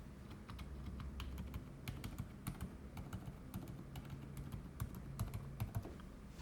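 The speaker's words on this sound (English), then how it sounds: "It's so quiet for a mechanical keyboard." Typing on a be quiet! Dark Mount mechanical keyboard with a muted, soft clack, a steady stream of quick keystrokes up close with no voices.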